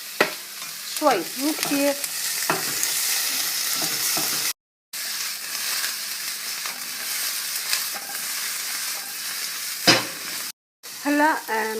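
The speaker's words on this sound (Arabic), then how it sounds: "هلا بنحط الاناناس بنقلبهم" Pineapple pieces hit a hot pan with crunchy-cooked onions and sizzle loudly while being stirred, with scraping stir strokes, two brief cuts in the sound and someone speaking briefly over the frying.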